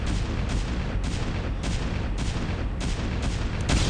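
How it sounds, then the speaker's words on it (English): Photon cannon fire in a StarCraft match, a rapid run of repeated booming, crackling shots in a steady rhythm, loud and dense with battle noise, no voices. "the photon cannon's pegging away at it"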